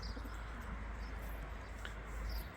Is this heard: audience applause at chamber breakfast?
no